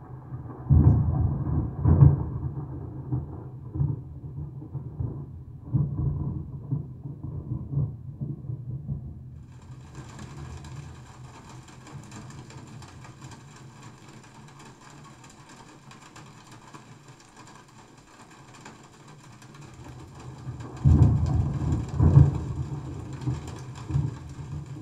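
A thunder sample layered in an Ableton Live session plays as deep rolling rumbles, with a louder burst near the start and another near the end and a quieter hissy stretch between, with no voices.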